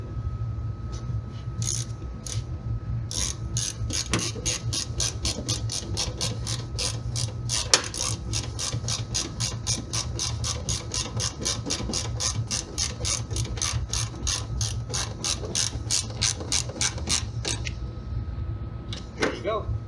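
A ratchet on an extension drives a bumper bolt on a 2006-2009 Toyota 4Runner, giving a long, steady run of crisp clicks close by, with brief pauses and faint talk underneath.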